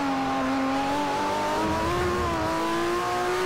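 A Ferrari 599 GTO engine in the video game Forza Motorsport 4 roars continuously at high revs, pitch sliding slightly as it holds speed, loud and close with no talking.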